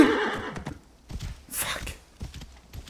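A horse in Assassin's Creed Origins whinnies loudly near the start, followed by hoof clip-clops and shuffling game sounds, with a brief bright burst in the middle.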